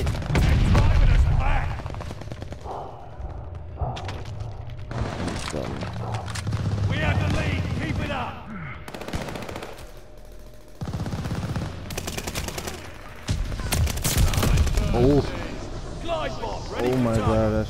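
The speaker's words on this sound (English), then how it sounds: "Shot somebody through the wall." Rapid automatic gunfire and explosive booms from the shooter game Call of Duty: Vanguard, loud bursts recurring throughout under excited players' voices talking over the action.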